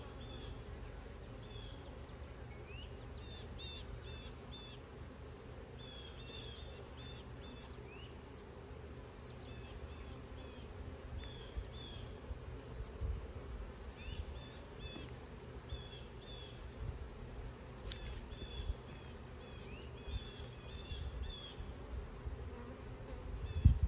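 Honeybees buzz around an open beehive during an inspection, a dense steady hum with individual bees droning past close by, continuing for the whole stretch and growing a little louder toward the end.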